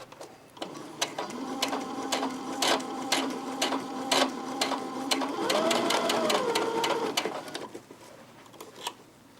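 A sewing machine runs steadily while stitching a fabric seam, with a fast mechanical whir and regular needle clicks. It is close and continuous, briefly changes pitch midway, then winds down near the end.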